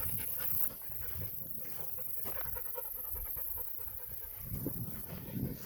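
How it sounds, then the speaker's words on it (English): A dog pants close by outdoors at a rural homestead, with quick, steady, rhythmic breaths lasting several seconds and an occasional faint whimper. "there's a dog in the way"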